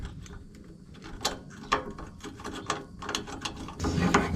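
A thin-walled socket wrench ratchets on an exhaust manifold bolt of a Case 170B excavator with a Deutz diesel, rapid close clicking strokes in short bursts.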